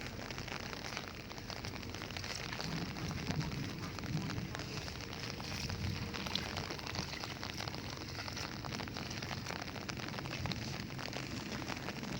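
Steady rain falling, a dense continuous hiss and patter on surfaces, fairly even in loudness throughout with no voices.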